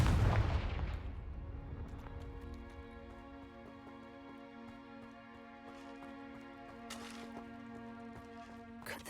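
A Confringo blasting-spell explosion in the Hogwarts Legacy video game, a single loud burst at the start that decays into a long, ringing tonal tail with a faint crackle later on.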